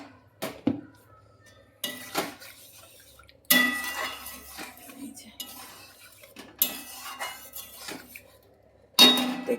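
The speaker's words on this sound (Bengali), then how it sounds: "দেখো এই যে জল দিয়ে দিলাম, পরিমাণ মতো জল দেবে" Water is added to lentil dal in a pot in a home kitchen, with clattering cutlery, clinks of metal utensils, and splashes occurring in intermittent loud bursts separated by quiet gaps.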